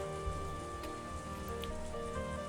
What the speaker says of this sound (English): I listened to the soothing sounds of raindrops hitting the scrap iron and the trash heaps